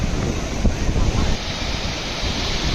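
Sea waves surging onto the shore near Somnath, a broad, rushing roar that swells then settles, with heavy wind buffeting the microphone throughout.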